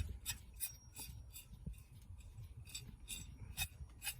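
On a Kenworth W900 truck, the A/C compressor clutch scrapes faintly against its pulley in a soft, steady, rhythmic rubbing with light gritty pulses about three times a second, heard close up and quiet.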